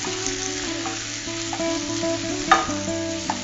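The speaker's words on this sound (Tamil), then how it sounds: "சோ தக்காளியும் இதோட சேர்ந்து நல்லா வதங்கணும்." Onions and tomatoes sauté in a pan with a steady soft sizzle, overlaid by repeated scraping stirs and one sharper clink of a spoon against the pan near the middle, with no talking.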